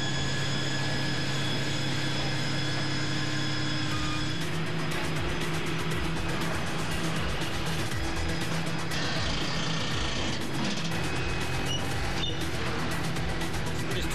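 A cargo aircraft's huge jet engine gives off a steady, powerful whine and rushing roar, with a change in intensity partway through as the noise thickens and turns more turbulent.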